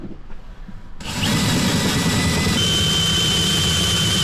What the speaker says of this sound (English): so I'm just drilling some holes here